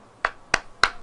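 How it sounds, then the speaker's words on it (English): Three sharp, evenly spaced hand claps, crisp and close, with near silence between each. "Did you just clap 3 times?"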